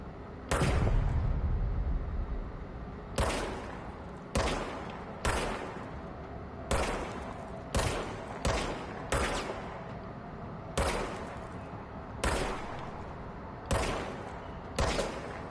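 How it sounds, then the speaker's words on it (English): Gunshots from a pistol in the action video game Control, about a dozen loud sharp reports fired singly at irregular intervals, each with a short decaying tail, with no talking. "now I have a gun"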